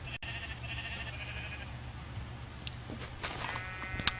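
Sheep in the Minecraft video game give several faint bleats over low ambient game noise, with a few clicks toward the end.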